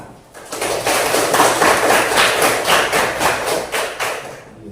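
A classroom of pupils clapping their hands together, a dense, steady patter of many overlapping claps close by that swells and then tapers off toward the end, with no talking over it.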